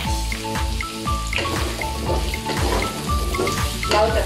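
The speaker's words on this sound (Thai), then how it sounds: "เราจะทอดฟักทองให้มันเหลืองเลยนะคะ" Pumpkin frying with garlic in a pan, a steady close sizzle with crackling pops and spatters, while background music with a repeating rhythmic pattern plays over it.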